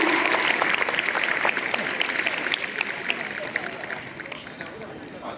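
Sustained applause from an audience at a school prize ceremony honouring students, a dense continuous clapping that gradually thins and fades, with some crowd murmur.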